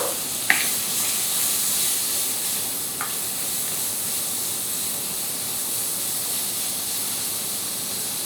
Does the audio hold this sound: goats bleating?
no